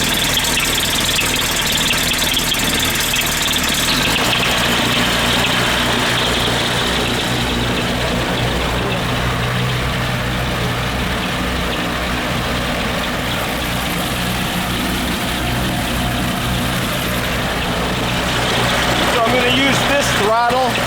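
An aircraft piston engine runs steadily after a carburetor sync with a crossover tube, giving a loud, continuous, rumbling drone with a slight whine for the whole stretch.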